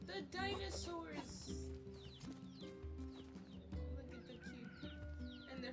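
Chickens cluck in the video game NieR Replicant, a steady run of fowl calls set against game music, with a voice talking over them.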